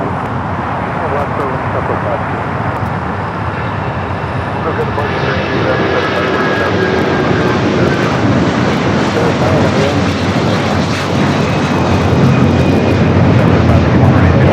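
An arriving airliner on the north runway at Los Angeles International, a Delta A350-900 from Paris, roars steadily and loudly, its engine noise building slightly toward the end amid background traffic and faint talk.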